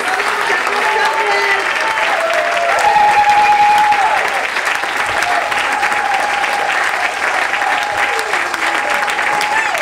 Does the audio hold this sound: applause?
yes